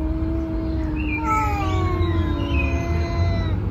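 A cat's drawn-out, wavering meow rises and falls over a few seconds, fairly close and clear above a steady low rumble of outdoor background noise.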